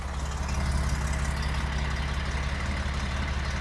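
A 1971 Porsche 911E engine idles with a steady, low rumble, continuous, with an even, slightly throbbing tone and no talking.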